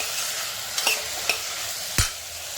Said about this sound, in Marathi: आपण ते परतून घेतो